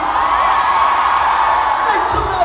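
A large crowd at a youth summit in Bangalore cheers and whoops for a performer, a loud continuous roar of voices with high yells rising near the end.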